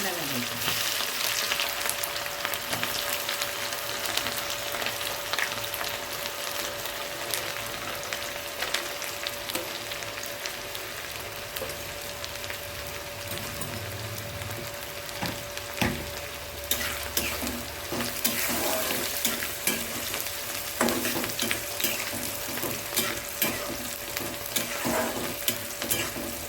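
Onion with garlic, mustard seeds, cumin and curry leaves fries in hot oil, giving a loud, dense, continuous sizzle up close, with occasional stirring scrapes and sputtering pops and no talking.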